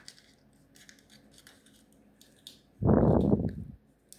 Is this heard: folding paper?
yes